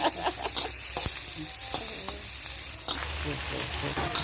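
Shrimp are stir-fried with curry powder in a pan, giving a busy, sputtering sizzle with frequent spatula scrapes and crackles. A voice is faintly audible in the background.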